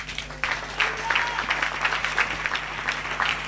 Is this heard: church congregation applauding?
yes